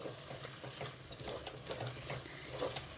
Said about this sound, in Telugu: ఇవి కూడా కొంచెం వేగాలి మామిడికాయ ముక్కలు కూడా వేగిపోయినాయి ఆయిల్ బయటకు వస్తుంది